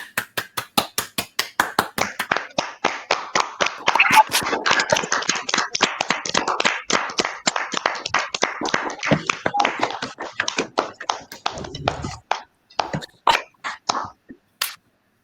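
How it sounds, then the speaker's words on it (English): A small crowd of Cub Scout families at a Pack 272 Blue and Gold ceremony claps for the Arrow of Light Scouts. The dense, steady clapping runs for over ten seconds, then thins to a few scattered claps near the end. "Let's have a round of applause for our AOL Scouts."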